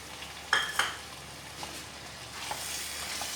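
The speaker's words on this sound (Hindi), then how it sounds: "अब इसके अंदर मैं डाल दूँगी फ्राई की हुई भिंडी और साथ ही मैं डालूँगी टमाटर।" Fried okra and tomato tipped into a pan of cooked potatoes, two sharp clattering impacts followed by a gentle ongoing sizzle and a few light utensil scrapes.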